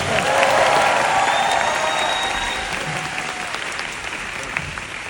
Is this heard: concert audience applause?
yes